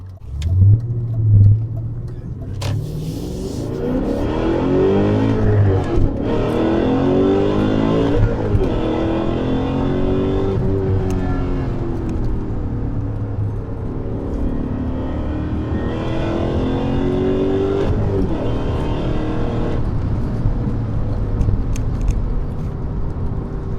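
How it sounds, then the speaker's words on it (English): A BMW E39 M5 with a Dinan S2 tune accelerates hard from inside the cabin with the windows up, its engine revving loudly through rising and falling sweeps for most of the run, with no talk over it. "clearly you can drive the car very enthusiastically and hear the sporty nature of the vehicle."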